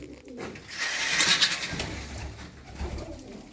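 Pigeons, tumbler-type playing birds, coo softly and repeatedly at close range, with rustling and bird calls over a low background rumble.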